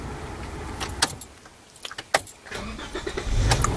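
A car engine is started with a key out in Kruger Park: close keys jangle, then a cranking start and a rising engine rumble at the end, with no speech.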